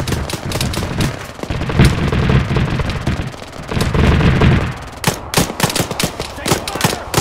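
Rapid automatic gunfire and single shots in a co-op Arma 3 mission, dense bursts first, then sharp separate cracks toward the end, with players' voices mixed in.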